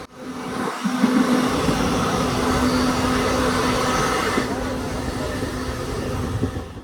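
Continuous low rumbling roar of an Indian Railways train running smoothly on rails through Tamil Nadu, steady and fairly loud with a faint hum, heard from inside a carriage.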